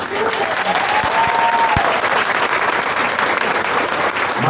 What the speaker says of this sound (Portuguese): todo mundo vai aplaudir com muita alegria esse primeiro beijo